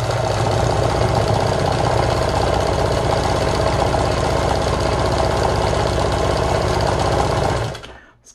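A Meister 76 programmable sewing machine stitches a decorative pattern, its motor whirring steadily and loudly with a fast mechanical chatter for several seconds before stopping abruptly near the end.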